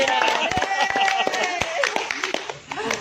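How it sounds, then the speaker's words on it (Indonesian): A few people clap in sharp, irregular bursts under lively, overlapping conversation and laughter in a room, with the claps loud and close. "Ya, aplaus lagi."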